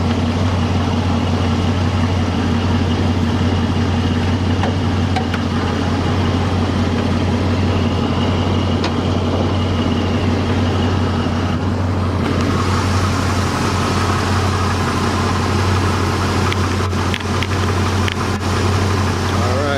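A stock-engined 1976 Ford Mustang Cobra idles steadily with the hood open, a low continuous rumble holding even throughout, with faint background noise and brief clicks near the end.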